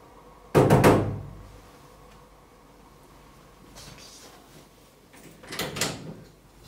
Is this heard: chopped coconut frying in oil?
no